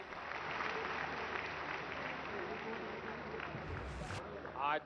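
Audience applause fills a diaspora conference hall in Bhubaneswar, a steady dense clapping that runs the whole time at moderate level, with a brief louder swell near the end.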